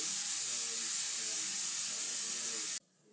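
Beef chow mein with celery, onions and leek frying in a pan while being stirred, giving a steady, loud broadband sizzle and hiss that holds for nearly three seconds and then cuts off abruptly.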